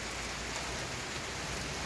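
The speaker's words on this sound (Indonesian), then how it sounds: "Kejebak hujan." Steady rain pours down in Jogja during a motorbike tour, a dense, even hiss of drops on surfaces with no pauses or voices.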